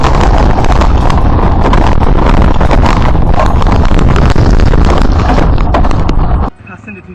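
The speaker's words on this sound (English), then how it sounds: "The fierce storm swept through the small harbor in northern Italy, with wind gusts of 62 mph" Fierce 62 mph storm gusts in a small harbor in northern Italy, a loud roaring wind buffeting the microphone continuously for over six seconds before cutting off abruptly to a quieter background.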